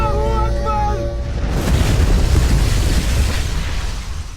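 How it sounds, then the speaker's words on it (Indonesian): A loud, dense film explosion erupts partway through, a sustained roaring boom with rumbling debris that follows a tonal musical passage and fills the remaining seconds. "Beruntung Jae-ho dan Wakil Menteri berhasil selamat dalam ledakan tersebut."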